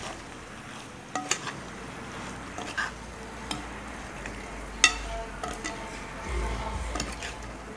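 Amchar masala being stirred into mango pickle in a pan: soft scraping and occasional spoon knocks against the metal over a low background hiss, steady and close with a few sharper clinks.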